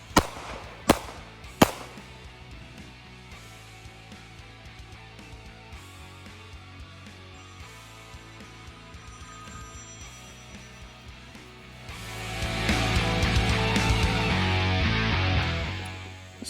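Three sharp pistol shots in quick succession open a timed zombie-target shooting drill, followed by quieter range noise and a swelling louder wash of sound near the end.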